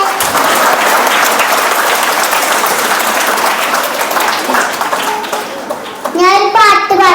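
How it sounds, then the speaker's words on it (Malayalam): School children at St. Joseph's HSS Mathilakam clap together in loud, dense applause that gradually thins, and a voice starts speaking at the close. "ഒന്ന് കൈയടിച്ച് എനിക്കൊരു എനർജി കിട്ടട്ടെ"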